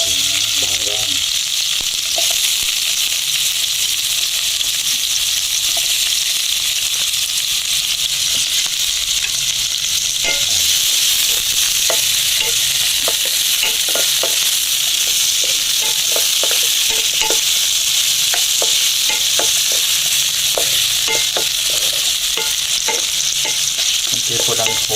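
Shrimp paste (bagoong) and garlic sautéing in a pan for Bicol Express, a loud, steady sizzle and frying hiss with scraping stirs in the later part, close up and without talk.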